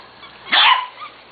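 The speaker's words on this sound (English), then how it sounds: "we can bark well, as you can hear" A corgi puppy gives a single sharp, close bark in the middle of an otherwise quiet moment, followed by faint whimpery yips.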